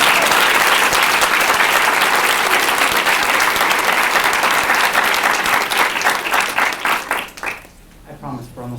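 An audience at a diversity monologue event bursts into a loud, full round of applause that holds steady, then tapers off near the end as a voice begins to speak.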